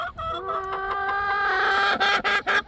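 Farm chickens clucking and squawking close by, a drawn-out harsh rooster-like call followed by several quick choppy clucks, loud and alone without talk.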